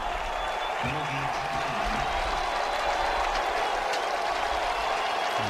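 Steady, broad applause and cheering from the UCLA and Northwestern crowds greeting Maurice Drew at the Sun Bowl fills the stadium, while a commentator's voice talks over it.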